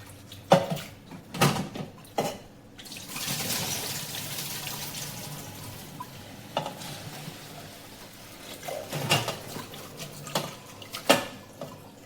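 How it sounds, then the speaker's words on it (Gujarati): Lentils being washed with water inside a pressure cooker, close sloshing and swirling with sharp knocks and clanks of the metal pot, in irregular bursts, no voices. "હવે આપણે એક કુકરમાં દાળ નાખીશું. દાળ નાખીને મસ્ત એને ધોઈ લઈએ."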